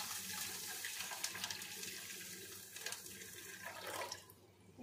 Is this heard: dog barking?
no